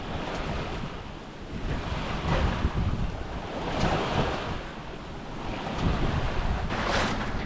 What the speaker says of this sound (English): So the headwind's just filled in a bit.